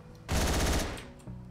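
A rapid burst of automatic gunfire in the video game Hotline Miami 2, loud and close, a dense rattle of shots lasting about half a second before dropping away.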